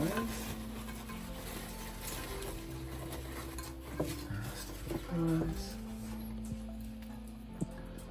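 Fries go into a pan for poutine and get stirred, with continuous sizzling under scraping and clinking of a utensil against the pan, close by and with a few louder knocks.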